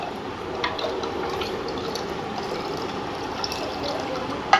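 Water pours steadily into a pot of Kathiyawadi dal dhokli in a continuous splashing stream, with light clinks of metal and a small knock at the end.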